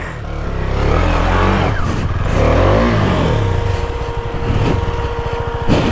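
A motorbike stuck on a rough road revs hard and continuously, its engine rising and falling in pitch as the rear tyre spins, loud and close with no speech.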